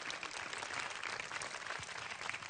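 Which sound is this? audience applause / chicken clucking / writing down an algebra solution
audience applause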